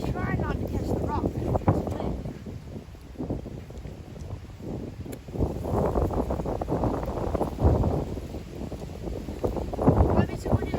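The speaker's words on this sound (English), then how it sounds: "Might be too windy to fish today," Strong gusty wind buffets the microphone outdoors on a fishing trip, a loud broadband roar that rises and falls in surges throughout, with rustling underneath.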